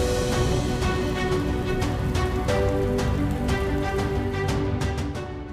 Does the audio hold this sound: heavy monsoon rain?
yes